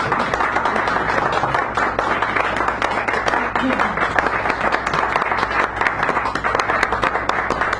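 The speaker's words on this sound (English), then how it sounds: "Give this wonderful poet a real round of applause as she comes up here" A café poetry-hour audience in San Francisco gives a poet a steady, full round of applause, dense and continuous throughout, with faint voices mixed in beneath the clapping.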